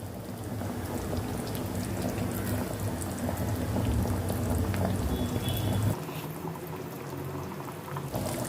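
Dough balls simmering in a pot of boiling amti curry over a medium flame, giving a steady, close bubbling and gurgling that drops off sharply near the end.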